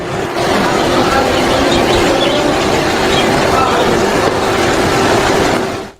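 A Delhi Metro train rolls along steadily with a constant rumbling roar and faint rhythmic rattling of wheels, loud and close throughout.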